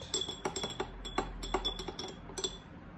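A spoon stirs turmeric into plain water in a glass, giving a series of light, quick clinks against the glass in an uneven rhythm, close and fairly quiet.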